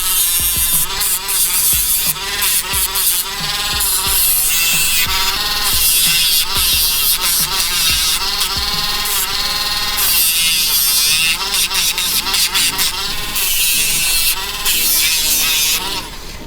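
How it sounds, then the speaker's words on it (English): An electric nail grinder buzzes continuously at close range while trimming the nails of a small Lhasa Apso and Poodle mix dog, its whine wavering in pitch as it presses against each nail. "And I like to grind the nails if they tolerate it."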